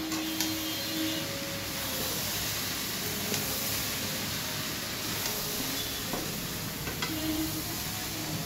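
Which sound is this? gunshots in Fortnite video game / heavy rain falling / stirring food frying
stirring food frying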